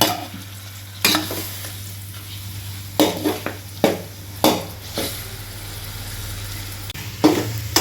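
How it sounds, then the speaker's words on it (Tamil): Chicken pieces fry in a pan with a soft, constant sizzle and a low hum, while a spoon scrapes and clinks against the pan in irregular stirring strokes every second or so. "இப்போ நம்ம சிக்கனை சேர்த்துட்டோம் இது ஒரு ரெண்டு நிமிஷம் அப்படியே ஃப்ரை பண்ணிக்கணும் அதாவது வதக்கிக்கணும்"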